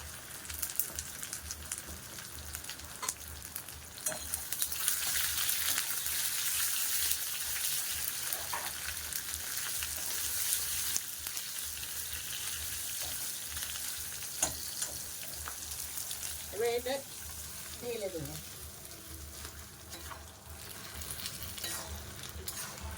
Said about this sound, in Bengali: একটু কাশ্মীর লাল লঙ্কা এটা দিয়ে দিলাম